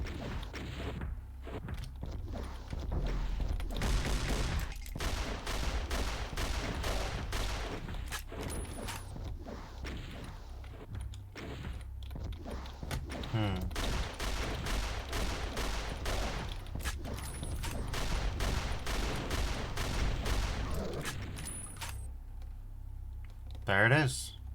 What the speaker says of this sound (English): I guess we're pistol dueling a fucking cyber demon, sure.